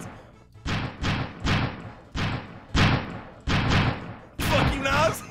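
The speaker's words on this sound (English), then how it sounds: "this one we shoot rockets and capture flags" Rocket shots in the Fall Guys video game: a rhythmic series of six or seven booming blasts with thuddy low-end bodies, evenly spaced, the last one mixed with a brief crackle.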